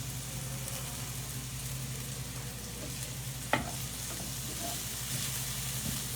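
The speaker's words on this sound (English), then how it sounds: "once you get your onions cooking up here" Onions cook in a pan for Greek stuffed grape leaves, giving a soft, steady sizzle under a low hum, with one brief clink of a utensil partway through.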